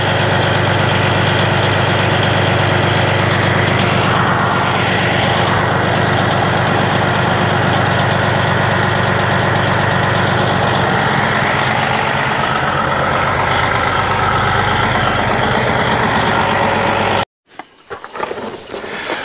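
Steady, loud idling rumble of a semi truck's diesel engine running without a break, then abruptly cutting off near the end as the truck is shut down, leaving a few faint clunks.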